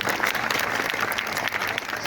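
Steady applause from a crowd at a party induction gathering for young members in Bhusawal, dense and continuous with no voices on top.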